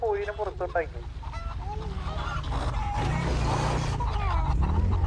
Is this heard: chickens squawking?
yes